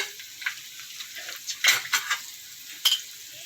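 Ginger frying in hot oil in a pot for beef pulao makes a soft steady sizzle, with a few louder bursts and light clinks of a spoon against the metal; close, with no talking.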